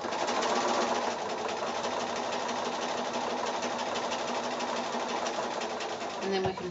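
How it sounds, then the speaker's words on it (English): Home sewing machine stitching quilt squares along a drawn line for a Churn Dash block, a steady fast mechanical whir running continuously and fairly loud, close up, with a brief clunk near the end. "Let's go to the sewing machine here."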